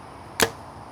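Arrow fitted with a Day Six Verse broadhead striking a target, a single sharp thwack that rings briefly and fades over quiet background.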